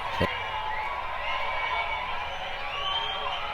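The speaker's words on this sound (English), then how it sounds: "either crowd noise or applause or something that gives it some sort of like human hype element" A steady wash of crowd noise sits low under a music production, a continuous, distant murmur of many voices used to add human energy beneath a chorus.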